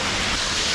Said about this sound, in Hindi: ये देखो, छोटा सा ही वाटरफॉल है बट बहुत सुंदर है।